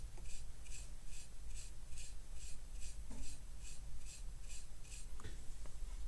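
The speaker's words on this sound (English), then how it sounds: "I'm cleaning with a fine brush because I don't want to rip those new traces" A fine brush scrubs an Opel Insignia automatic climate control module circuit board in a regular back-and-forth rhythm of soft scratchy strokes, close up over low background hum.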